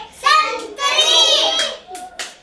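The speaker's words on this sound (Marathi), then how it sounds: "टाळ्या वाजवायचे" Small children clap their hands during a guess-the-object game from a magic bag, with a few sharp claps breaking through an adult's and children's lively chatter nearby.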